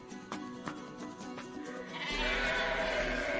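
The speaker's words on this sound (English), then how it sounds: "I forgot about the sheep." Several short sheep bleats sound at moderate distance over steady background noise, which swells into a louder hiss near the end.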